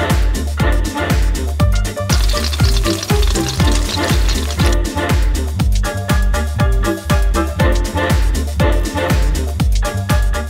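Omelette batter sizzles loudly in a pan on a gas stove in a camper van, a close, crackling fry with regular scraping stirs throughout and no talk.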